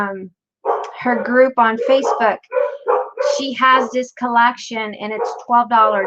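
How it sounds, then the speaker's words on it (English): Several dogs bark repeatedly in the background of a crafting room while a person keeps talking steadily over them. "and sorry for my dogs."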